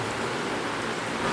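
Rain falls steadily in a dense, even hiss with no distinct drops standing out, close and fairly loud throughout.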